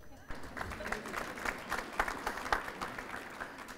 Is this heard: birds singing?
no